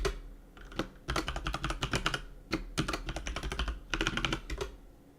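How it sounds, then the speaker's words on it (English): Rapid bursts of clicking keystrokes on a computer keyboard as a password is typed, in several quick runs separated by short pauses, close and fairly clear with no talking. "Why is my password just so hard for me to type?"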